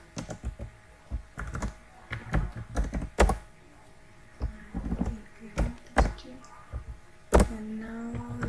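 Typing C++ code on a computer keyboard, close and moderately loud, with irregular clusters of key clacks and pauses between them.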